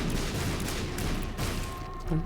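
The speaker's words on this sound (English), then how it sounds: "did you hear all those explosions?" Dense bursts of booming explosions and gunfire-like blasts from the video game The Binding of Isaac pile up continuously, loud and close, with no talking.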